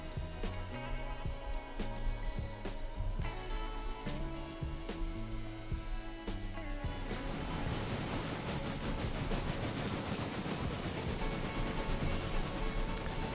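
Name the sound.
maintenance of way train running, from the video game Railroader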